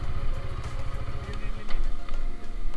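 A motorcycle engine pulling hard at 7000 rpm in second gear on a road at dusk, a close, loud, rough buzzing roar that surges unevenly, with a voice faintly underneath.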